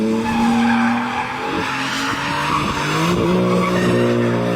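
A car drifts in Kazakhstan, its tires squealing in long, wavering screeches over a revving engine, loud and close with the pitch sliding up and down throughout; no talk.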